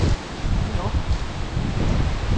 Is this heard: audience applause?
no